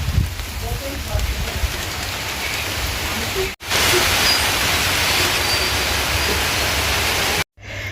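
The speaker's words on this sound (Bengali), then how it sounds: "বৃষ্টি হচ্ছে তার সাথে সাথে হাওয়া হচ্ছে" Rain falls with wind in a steady, loud broadband rush that fills the whole stretch, cut briefly by two short breaks.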